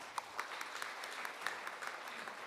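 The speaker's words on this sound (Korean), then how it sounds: "박수 좀 부탁드립니다." An audience at an army forum session applauding a speaker, a faint, even patter of many hands with a few sharper claps standing out, heard from a distance.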